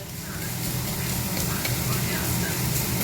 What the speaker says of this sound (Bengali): এইভাবে রসুনটা একটুখানি ভেজে নেবো